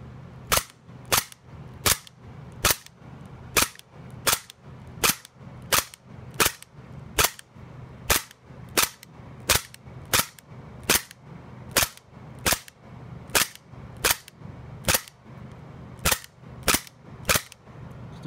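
A Walther P99 or HK USP gas blowback airsoft pistol fires about thirty sharp, loud cracks at a steady, fairly quick pace, each shot crisp and close with a short gap between, no voices.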